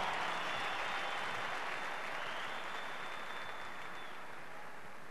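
A large arena crowd at a hockey jersey retirement ceremony in Montreal applauds in a steady, sustained roar of clapping and cheering that stays loud and even throughout, with a faint whistle tone running through it.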